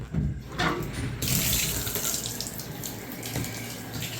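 Water runs full bore from a tap into a household drain that tends to clog, a loud, steady, close splashing rush that swells after the first second and then holds, with no talk over it.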